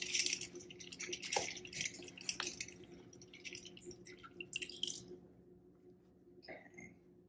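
Homemade butter being rinsed and squeezed in water by hand: soft, close splashes, drips and squishy wet sounds that come in small bursts, then ease into near quiet with one last splash.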